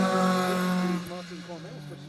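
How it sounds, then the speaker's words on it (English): Mark III Escort rally car running a Focus ST170 2-litre engine, a sustained loud engine drone that eases off partway through, with a commentator's voice over it at a stage rally. "The Mark III Escort adding some variety to the results, but running a much more modern Focus ST170 2-litre engine"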